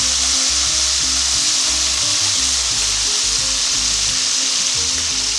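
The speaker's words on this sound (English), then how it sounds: "let's take this beautiful stock here and let's drain that into the skillet for the sauce" Shrimp stock drained into a hot skillet for a shrimp-and-grits sauce, producing a loud, dense, unbroken sizzle close up, with a low rhythmic hum pulsing beneath.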